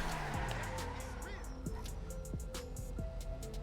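A Karin Previon coupe braking in GTA Online, with engine tone dropping and rising through repeated gear shifts, tire noise, and someone talking over the game sound throughout.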